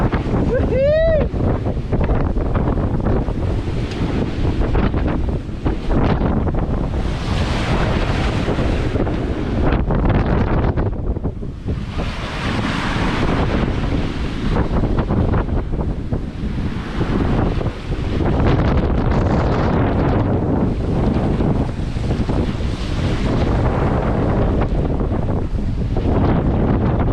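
Strong wind gusts batter the microphone at sea while crossing the Gulf Stream, a loud rumbling buffet that surges and eases repeatedly, with wave wash and a brief whoop underneath.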